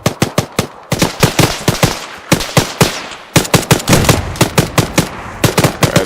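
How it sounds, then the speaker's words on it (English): Rapid bursts of automatic gunfire and single shots from soldiers in the military video game ArmA 3, loud and close, in clustered volleys with short pauses between them. "They're firing upon them."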